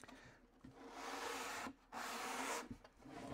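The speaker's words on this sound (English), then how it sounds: "I'm just sanding the underside." The underside of a reclaimed wood toolbox is sanded by hand with the hard side of a cork block, giving close, steady rasping strokes with two short pauses between passes.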